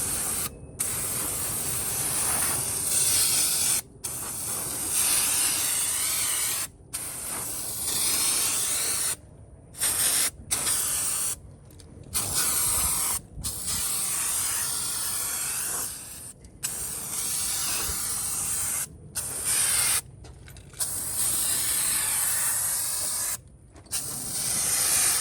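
Engine cleaner is sprayed over a dirty Audi engine in long, loud hissing bursts, each broken by short silent pauses as the trigger is released and pressed again.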